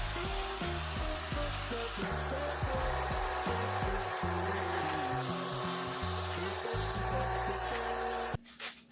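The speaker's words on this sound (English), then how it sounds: "grind off the slag or wire brush off the slag" A tool works over rough welds on a rebar garden tool rack to remove slag, giving a harsh, steady scraping and grinding with shifting tones that cuts off abruptly near the end.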